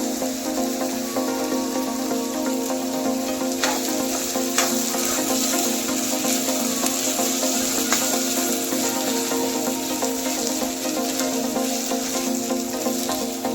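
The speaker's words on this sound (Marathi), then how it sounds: "कांदा सोनेरी रंग होईपर्यंत चांगला भाजून घ्यायचा पण चक्री फुल आणि दालचिनी आणि तेजपत्ता टाकून घेऊया" Sliced onion frying in hot oil with star anise, cinnamon and bay leaf for a soya keema, a dense, even sizzle close by, continuous and unbroken, with no talking.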